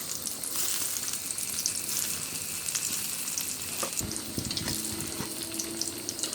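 Krupuk crackers frying in hot oil in a home kitchen, a steady close sizzle and crackle with brief clatters of stirring throughout, no voices.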